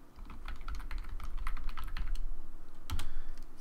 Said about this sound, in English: The quickest way to do that is usually to just type it in the search field.